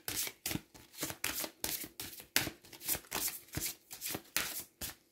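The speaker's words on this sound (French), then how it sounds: "je vais préparer les cartes pour que vous puissiez justement faire votre choix de la carte. Hop, je mélange." Oracle cards shuffled by hand in a quick, steady run of riffling bursts, each a papery rustle followed by a short pause, close and fairly quiet with no voices.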